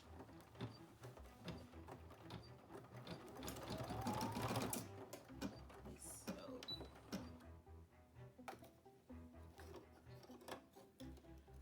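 An embroidery sewing machine stitches an in-the-hoop mini bag, a steady close mechanical whir of rapid needle strokes that swells midway and then runs on a little lighter.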